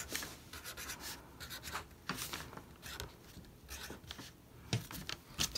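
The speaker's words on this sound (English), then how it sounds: "I'm gonna draw something." A pen or marker draws on a paper card up close, making scratchy, rubbing strokes in irregular bursts throughout, with no talking.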